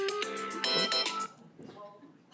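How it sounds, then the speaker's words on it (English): A phone timer alarm rings with a bright, repeating electronic tone during a county election advisory committee public meeting, then stops as a voice speaks. "that's my timer. That's not a phone call."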